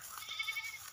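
A goat bleats in an open field where it is tethered to graze, a short, moderately faint wavering cry heard alone with no talking.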